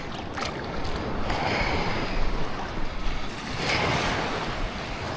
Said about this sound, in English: They say it's one of the nicest beaches in the Caribbean.